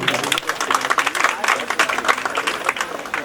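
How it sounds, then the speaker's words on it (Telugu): A crowd claps for Prime Minister Narendra Modi at a women's health campaign event in Telangana, brisk continuous applause filling the space, with voices mixed in beneath it. "అందరూ కూడా ఒక్కసారి చప్పట్లు కొట్టవలసిందిగా కోరుతాం"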